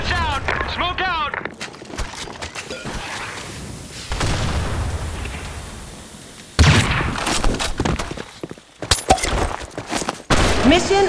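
Grenade blasts and bursts of rifle fire in Insurgency: Sandstorm, with heavy booms and rapid gunshots that cut in and out over a rumbling battlefield, as soldiers shout and talk through the fighting.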